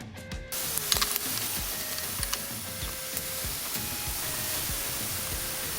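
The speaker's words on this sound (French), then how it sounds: "Je fais cuire mes épinards à la casserole." Five frozen blocks of spinach cooking in a saucepan give a steady, close hiss of steam and sizzle, with scattered light clicks and knocks throughout.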